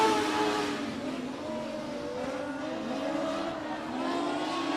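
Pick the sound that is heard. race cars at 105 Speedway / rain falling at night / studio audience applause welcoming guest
race cars at 105 Speedway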